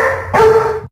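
A dog barks once, loud and close, a short yelping bark after a brief low murmur, with no one speaking over it.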